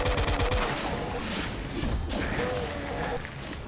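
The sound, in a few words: rocket fire in Doom video game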